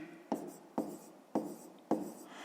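A pen scratches across paper in four short, evenly spaced strokes, close and quiet, while a math exercise is written down by hand.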